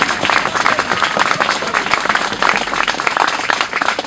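Crowd applauding at an outdoor memorial stele inauguration in front of the WHO building, dense steady clapping from a group close by, with no voices over it.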